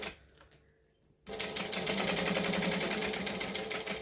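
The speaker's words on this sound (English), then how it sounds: "I'm going to pull back just the exterior and top stitch" A sewing machine top stitches the exterior of a fabric penny pouch at a long stitch length, starting after a quiet moment and then running steadily and loud with a fast, even mechanical whir up close.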